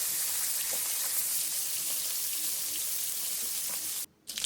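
Fish fries in hot oil in a pan, giving a steady, close sizzling hiss with light crackles. It cuts out abruptly for a moment near the end, then returns.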